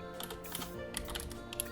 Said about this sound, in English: And then we're going to type in